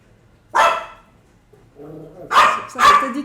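A dog barks close by, one sharp bark, a brief low growl, then two more quick barks.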